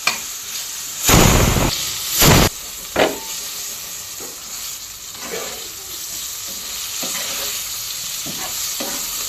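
Frying in hot oil with turmeric sends up a loud, close sizzle with several sharp bursts early on, then settles into a continuous crackling hiss punctuated by soft stirring sounds.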